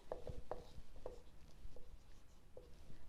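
A pen scratches across notebook paper while someone works a Class 10 geometry problem, with short, faint strokes in an uneven rhythm in a quiet room.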